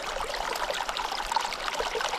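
Cold spring water runs in a small mountain stream in a Tajik gorge, fed straight from the source, a steady close babble and trickle that goes on without pause and with no voices over it.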